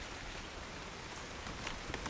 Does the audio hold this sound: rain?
yes